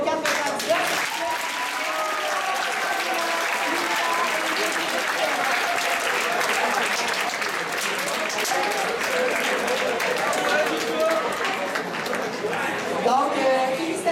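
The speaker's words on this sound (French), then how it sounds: "On va redonner une main d'applaudissement aux 4 candidats." Students at a student presidential election event give the four candidates a sustained round of applause, dense clapping from a room full of people that continues throughout with some chatter mixed in.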